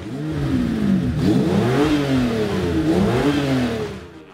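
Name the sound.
V12 truck engine revving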